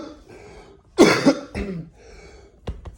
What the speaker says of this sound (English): I'm like really trying to cough something up right now